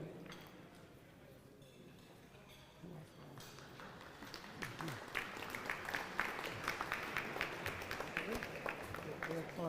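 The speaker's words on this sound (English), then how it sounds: "Oh, that was for you, that applause?" An audience applauds at the 68th Annual Rotary Sports Awards. The clapping starts thin and distant, then swells after a few seconds into loud, dense applause with sharp individual claps that carries on to the end, with voices mixed in.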